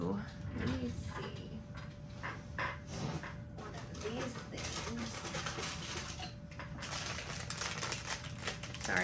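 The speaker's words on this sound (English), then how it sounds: "Sorry for the crinkling." Paper crinkling and rustling while an art journal page is being made, a close, busy run of crackles and handling noises that continues almost without pause, with a voice talking quietly underneath at times.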